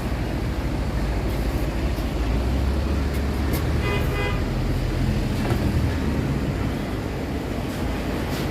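A vehicle setting off in Kuwait, giving a loud, steady low engine rumble throughout, with a brief horn-like tone near the middle.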